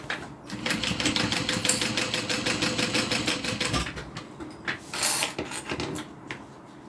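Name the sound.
sewing machine sewing down wallet part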